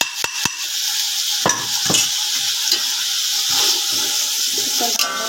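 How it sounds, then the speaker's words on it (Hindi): Beef pieces with masala and salt are stirred in a hot pot for white beef pulao, a steady sizzle broken by sharp metallic knocks and scrapes of the spoon against the pan, close and clear. "इसको हम भूनेंगे"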